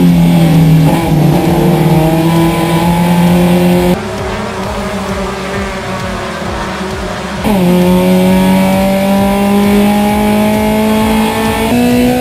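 Race cars at Cascavel de Ouro roar continuously at full throttle, loud and close, with engine pitch rising through gear changes and a brief dip as the field passes, sustained for the whole stretch.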